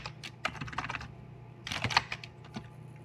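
Rapid typing on a computer keyboard while entering a terminal command, two bursts of quick close key clicks separated by a brief pause, with no talking.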